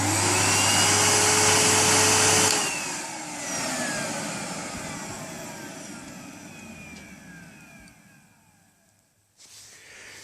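A 1998 Numatic Henry HVR200 vacuum cleaner motor runs with a loud steady whine, then switches off and winds down in a long falling tone before a brief restart at the end.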